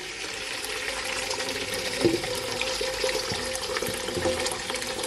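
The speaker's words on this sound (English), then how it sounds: "I'm gonna add at least 10 cups of water from the kettle" Water pours steadily from a kettle into a bowl with a continuous splashing rush, close and moderately loud, with no talking.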